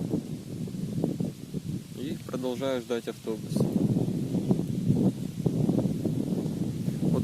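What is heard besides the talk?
strong hot wind blowing outdoors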